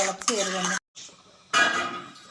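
Metal utensils scrape and clink against a pot of rice and water in a few short bursts, close by, with a brief silent gap between them.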